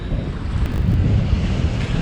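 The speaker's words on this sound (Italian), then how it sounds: "Azzo, l'arietta c'è." Strong wind buffeting a sailboat at anchor near remote islands in Fiji, a steady loud rush with heavy low-end microphone rumble and faint surf beneath, no voices.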